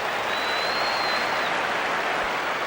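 A virtual stadium crowd in the baseball video game MLB The Show 15 applauds steadily during a Zephyrs at Dodgers PCL championship game. The roar is dense and even, with a brief whistle rising above it.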